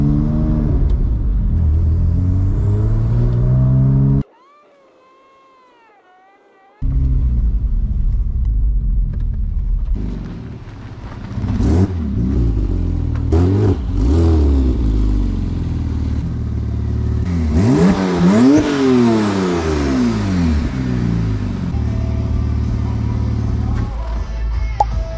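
A rebuilt Porsche 997 Turbo race car, made road legal, coasts back to the garage off the throttle. The engine drones and rumbles loudly up close with shifting pitch, and there is a short break partway through.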